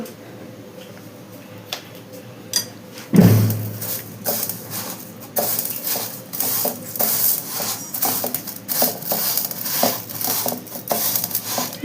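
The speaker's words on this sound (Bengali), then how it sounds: "ভালোভাবে ঘি চালে মাখিয়ে নিচ্ছি।" Gobindobhog rice grains coated with ghee are worked by hand in a metal bowl, producing soft, irregular grainy rustles and light clinks. The sound is close and moderately quiet, with no voice.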